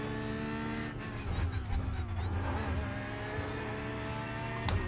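Porsche GT3 race car lapping the Knockhill circuit, engine note rising and falling through gear changes from inside the car, with a sharp transient near the end.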